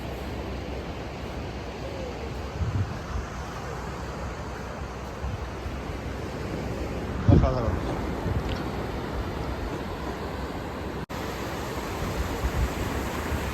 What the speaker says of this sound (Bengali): চারিদিকে পুরো ফাঁকা বিচ আর সমুদ্রের শব্দ